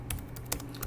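Computer keyboard keys tapped while formatting a Markdown title, a few quiet separate clicks spread over a short moment with no talking.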